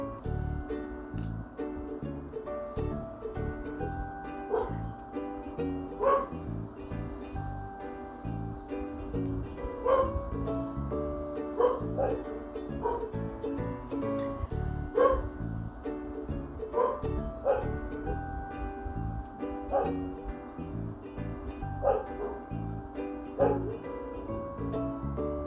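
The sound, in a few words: dogs barking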